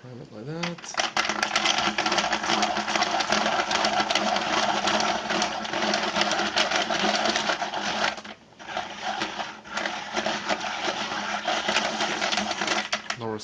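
A Classroom Friendly manual pencil sharpener grinds a pencil in a steady, continuous rasping whir that runs close and loud for most of the stretch, with a brief dip partway through before the cranking resumes.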